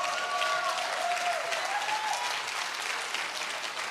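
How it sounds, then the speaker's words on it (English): Steady applause from a church audience at a Friday night worship service, a thin, polite golf clap that stays fairly even throughout with no voices over it. "that was a golf clap"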